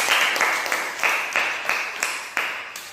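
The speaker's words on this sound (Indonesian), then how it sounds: "Tepuk tangan dulu untuk kelompok Marvin" Classroom applause for a student group: several rhythmic bursts of clapping from a small crowd, close and fairly loud, fading slightly toward the end.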